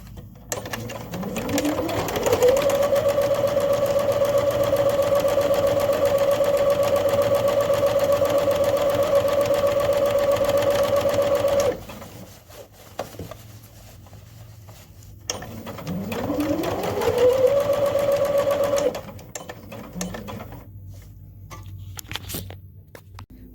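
A sewing machine top-stitches flaps on a fabric face mask in two runs. Each run starts with a rising whir that settles into a steady, close, rapid mechanical hum, with a short pause between the runs.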